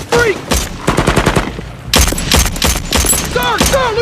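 Heavy covering fire in a war film: rapid machine-gun bursts and fusillades in loud, close clusters with brief gaps, while shouted voices cut in over the shooting.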